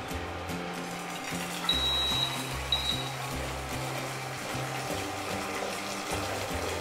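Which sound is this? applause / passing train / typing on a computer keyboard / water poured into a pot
water poured into a pot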